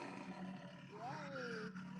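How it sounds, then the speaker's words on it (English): A tiger roar sound effect played in a classroom exam setting, a single swelling, gliding roar over a faint murmur of room noise and distant voices. "I'll give you a tiger roar."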